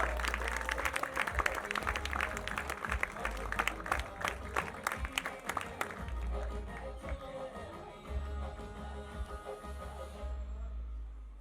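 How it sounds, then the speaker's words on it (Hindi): A live audience claps loudly to welcome actor Shrikant Verma at a film event. The dense, rapid applause runs for about ten seconds, then stops abruptly. "जोरदार ताली आ गया"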